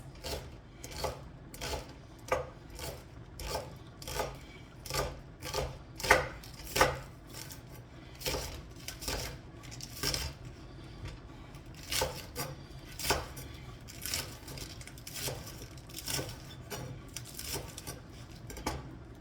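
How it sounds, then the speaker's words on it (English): A knife steadily chopping food on a cutting board while making tteokbokki, a quick series of crisp close taps in regular bursts with short pauses, no talking. "So just chopping."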